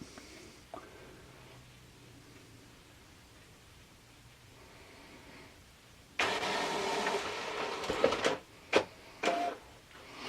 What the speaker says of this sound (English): while this is printing